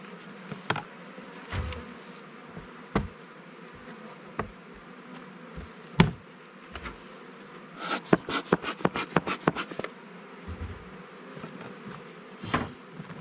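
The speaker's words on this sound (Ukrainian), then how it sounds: "Тоді бджоли позалазили, погано їх вимітати." A steady buzz of honey bees around an open hive hums throughout, with sharp clicks and taps of frames scattered over it, including a quick burst of rapid ticks in the middle.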